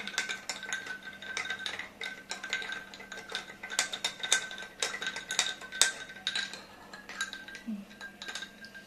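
Ice cubes clink and rattle against a glass as lemon juice is stirred, a quick run of bright, close clinks and taps repeating steadily with no voices.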